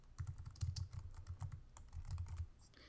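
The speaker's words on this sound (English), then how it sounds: "So we're just going to type out a new string array." Rapid typing on a computer keyboard while entering code, a close, quiet stream of soft key clacks with a short pause before a final flurry.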